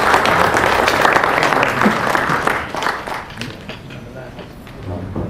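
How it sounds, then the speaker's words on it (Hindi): A crowd at a book launch event applauds to welcome a guest, a loud, sustained wash of clapping that gradually thins and fades toward the end. "जोरदार तालियों से स्वागत।"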